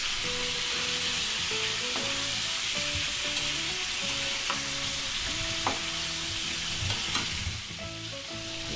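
Onions sautéing in a pan for sarsiado bangus, a milkfish dish: a continuous, close, loud sizzle and crackle that holds steady throughout, with music playing behind it.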